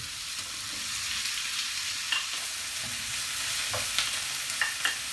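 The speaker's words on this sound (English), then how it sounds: "Let's get them onions whizzing round that pan" Onions, peppers and mushrooms frying in a pan, a steady, fairly loud sizzle with a few soft scrapes and taps from stirring, and no voices.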